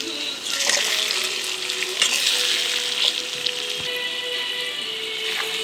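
Mutton with banana flower sautéing in oil in a pan gives a steady, close sizzle and crackle, with a few soft stirring scrapes throughout.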